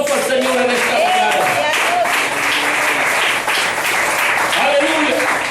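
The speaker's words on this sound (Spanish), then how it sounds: "Dale un fuerte aplauso al Señor en esta mañana." Church congregation claps loudly during a Sunday morning service, a dense, sustained round of applause with voices calling out over it.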